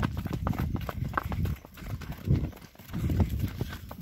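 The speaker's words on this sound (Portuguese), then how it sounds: "A neta montado na égua" Hooves of a mare, named as a mare, being ridden at a rural farm, clip-clopping in a steady walking rhythm. The footfalls sound close and fairly loud, with soft background noise between steps.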